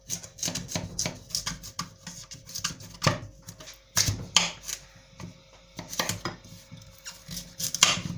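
A carrot being chopped on a cutting board, irregular sharp knife strikes up close, with occasional clinks of kitchenware and no speech.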